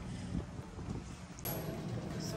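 Gusty wind buffets the microphone at Niagara Falls, a low rumbling rush that swells and steadies over a couple of seconds, with no clear voices.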